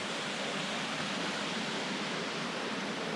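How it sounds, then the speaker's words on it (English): A small creek beside a bush camp caravan site trickles in a constant, even wash of water sound, with no voices and no breaks throughout. "We have the joy of listening to a trickling stream"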